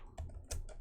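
A few keystrokes on a computer keyboard, soft and close, three or four quick taps ending with a slightly firmer press of the Enter key.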